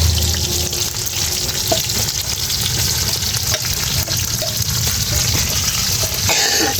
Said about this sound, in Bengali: এই তো বড়াগুলো ভাজা হইতেছে, দেখেন আস্তে আস্তে জালে